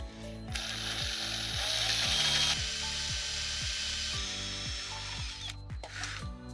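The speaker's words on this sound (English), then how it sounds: "I'm going to use a pocket screw jig to screw these in this time." Driver or drill sinking pocket screws through a jig to fix plywood dividers while fitting out a carpenter's van: a steady whirring motor with a repeating ratchety clicking, close and continuous for several seconds, with no talk.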